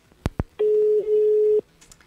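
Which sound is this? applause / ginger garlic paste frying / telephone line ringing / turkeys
telephone line ringing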